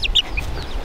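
A chicken on a sailing yacht gives a few quick, bright clucks over a low, steady rumble of wind and boat noise, all within a second.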